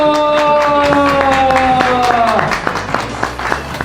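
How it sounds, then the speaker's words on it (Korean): Children and teachers at a Korean church class's end-of-term service clap in scattered, uneven bursts while a voice lets out a drawn-out cheer, the clapping thinning toward the end. "자, 우리 박수 한번 치겠습니다."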